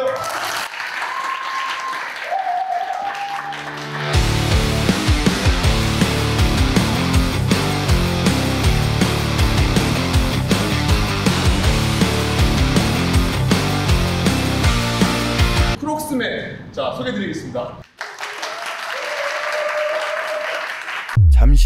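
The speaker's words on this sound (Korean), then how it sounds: "박수 주세요" An audience applauds loudly for several seconds at a basketball one-on-one event, with music and voices around the clapping.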